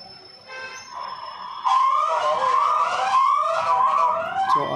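A WiFi indoor security camera sounds its alarm siren: a loud electronic wailing tone that rises and falls, joining a quieter tone partway through and continuing steadily, close by with no speech.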